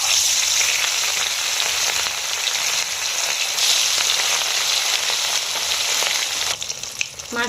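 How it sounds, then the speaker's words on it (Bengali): Rohu fish pieces deep-frying in plenty of hot mustard oil, a loud, dense, continuous sizzle close by that crackles steadily throughout, with a brief shift near the end. "তেলটা আমার গরম হয়ে গেছে, এবার মাছগুলো ভেজে নেব।"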